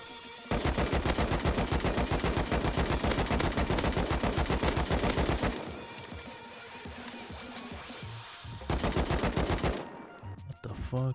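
Rapid automatic bursts of AK rifle fire in a video game, loud and close, with a long burst, a brief lull of quieter shots, then another fast burst.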